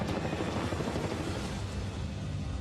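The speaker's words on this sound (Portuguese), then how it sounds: "Esse helicóptero é militar. É um Black Hawk." A military Black Hawk helicopter flies in a continuous, fairly faint broadband roar with a low rotor rumble. The sound holds steady throughout with no talk.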